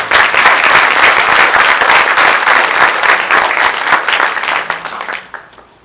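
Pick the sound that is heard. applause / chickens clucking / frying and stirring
applause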